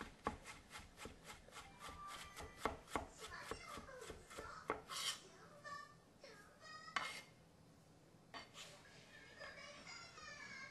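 A knife dicing potato on a wooden cutting board, a quick run of rhythmic close chops followed by scattered scraping and shuffling of the pieces, quiet and near, with no speech over it.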